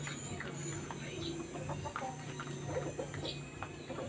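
Chickens peck and cluck softly while eating dog food close by, their brief calls rising over steady low background noise in a yard where dogs are also kept.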